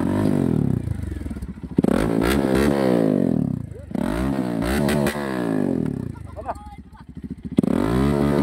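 A motorcycle engine, out on an overnight ride around Baler, is revved hard in three loud, close bursts, each climbing in pitch and then dropping back to idle, with rattling and clatter between the revs.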